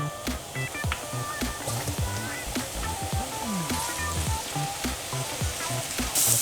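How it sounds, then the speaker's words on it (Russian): Mushrooms frying in a pan of hot oil for buckwheat soup, a steady close sizzle with scattered crackles and pops running throughout. "Теперь обжариваем грибы."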